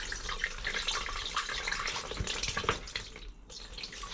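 Water flushes through the coil of a vented hot water cylinder fed from the mains, a steady rushing, gurgling flow with bubbly splashes, fairly quiet and continuous throughout.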